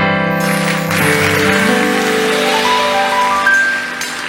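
Audience clapping in a church during a youth revival service, broad steady applause from many hands mixed with a droning musical tone, loud and close.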